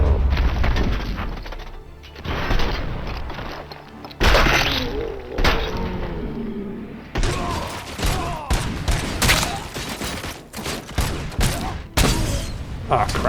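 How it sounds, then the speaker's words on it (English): Loud explosive blasts and crashing debris from a grenade going off in the video game Robocop Rogue City, several sharp bursts landing close with scattered gunfire and clatter between them. "a grenade just went off at my feet"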